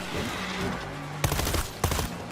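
Gunfire in the zombie shooter World War Z Aftermath: two short, loud bursts of rapid automatic shots over a steady background hum, with a voice briefly audible before them.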